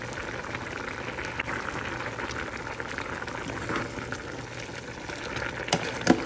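A pot of ridge gourd vegetable curry with fried spice mix bubbles quietly on the stove, a soft, steady simmer with faint pops and no talking.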